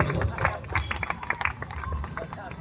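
Audience at a Hindi poetry recital of a poem by Atal Bihari Vajpayee clapping in uneven, scattered bursts amid a hubbub of crowd chatter and nearby voices.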